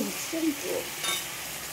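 Food is stirred and mixed in a frying pan, with a steady sizzle and brief scraping strokes close by.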